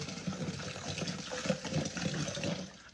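Water pours and splashes into a container while a flavoured drink is made, a continuous gurgling, bubbling fill of moderate loudness, close by with no talk.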